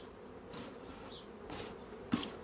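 Honeybees in an opened hive buzz in a constant dense hum, close and fairly quiet, with a few louder bees flying past the ear.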